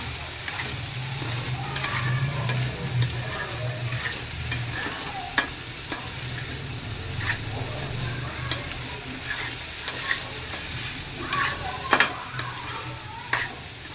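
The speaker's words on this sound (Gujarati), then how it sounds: "બે મિનિટ જેવું સાંતળવાનું" Vegetables sauté in a hot pan for a Gujarati dish, with a steady sizzle and frying hiss under repeated scrapes and knocks of a spoon stirring, close and continuous.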